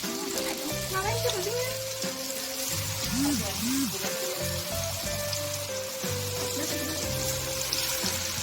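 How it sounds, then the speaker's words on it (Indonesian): Tofu coated in wheat flour frying in hot oil until golden, a soft continuous sizzle and crackle heard faintly beneath a voice talking over it. "Goreng tahu hingga warnanya keemasan."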